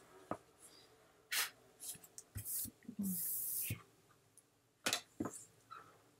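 An ordinary eraser rubs glue off a surface in short, close scrubbing strokes, faint and quiet, with several separate bursts and pauses between them.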